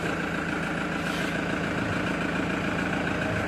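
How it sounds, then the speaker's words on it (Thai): A white 2017 Toyota Commuter van with the 3.0 D4D diesel engine idles smoothly and steadily, a constant low rumble heard up close with no voices. "เสียงเครื่องยนต์ นุ่มๆนิ่มๆเลยคันนี้ครับ"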